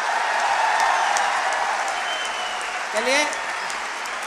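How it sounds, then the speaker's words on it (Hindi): An audience applauds a poet at a Shaam-E-Sitara event, a steady broad wash of clapping filling the hall, then a voice briefly speaks near the end as it continues. "तालियां बजा दोगे तो एक गीत और सुना दूंगा,"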